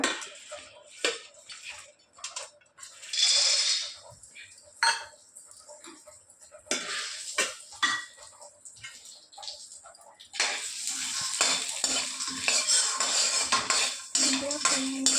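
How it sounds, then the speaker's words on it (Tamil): Peanuts dry-roasting in a pan and being stirred, giving intermittent bursts of rattling, scraping clatter between quieter gaps, then a denser, more continuous rustle toward the end. "வேர்க்கடலையே நல்லா இப்போ வறுத்துக்கணும்."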